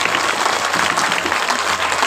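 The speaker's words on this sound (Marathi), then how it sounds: "सर्वांसाठी एकदा जोरदार टाळ्या वाजवा" An audience at a Shivnam Saptah religious gathering in Krushnur applauds, producing dense, steady clapping from many hands that fills the whole moment without letting up.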